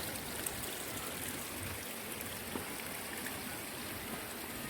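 Steady flowing water of the Ciwulan river near Kampung Naga, a village surrounded by forest and rice fields in Tasikmalaya, a continuous broadband rush with no pauses and no voices.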